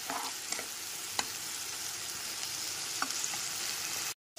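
Tomato, green chili and ginger paste sautéing over a medium gas flame, a soft steady sizzle with occasional light clicks of stirring, then a sudden cut to silence.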